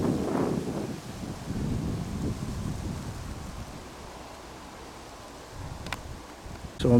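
Wind gusts across the microphone outdoors at a meadow nature reserve, a loud rumbling buffet at first that eases to a steadier low rush, with brief sharp noises near the end.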